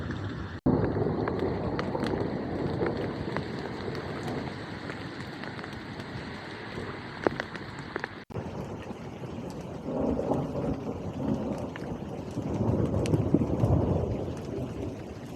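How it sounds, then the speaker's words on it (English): Rain and thunder during a kayak wild camp: steady rain patters and hisses on a surface throughout, with low rolling rumbles of thunder that swell later on. One sharp knock or click breaks in partway through. "Still raining, but I think the thunder and lightning has stopped."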